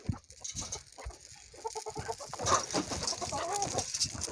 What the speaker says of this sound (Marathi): कोंबड्या लगेच पळत आहे बाजूला